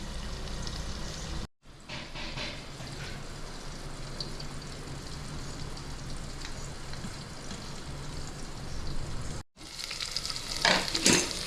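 Onions and green chillies sautéing in oil for ghee rice, a continuous close sizzle with stirring scrapes and pan clatter, broken by two brief silent cuts and a louder burst of crackling near the end.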